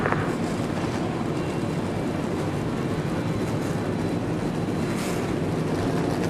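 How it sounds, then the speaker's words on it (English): Forty NASCAR Xfinity Series race cars idling together at Darlington Raceway after the start command, a steady, dense engine roar heard at a distance with wind buffeting the microphone, no voices. "40 cars have come to life."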